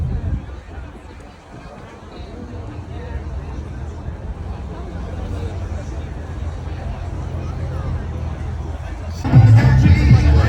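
Crowd chatter surrounds a Tesla Cybertruck at Supercar Saturdays, an outdoor car show in Hollywood, Florida. A steady murmur of many voices continues throughout, with a nearby voice talking over it and a louder rumble rising near the end.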